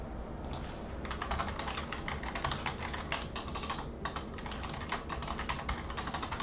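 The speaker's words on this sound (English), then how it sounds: "I can't type on this keyboard." Steady, rapid typing on a computer keyboard, close and fairly loud, with dense uneven key clicks running throughout and no talking.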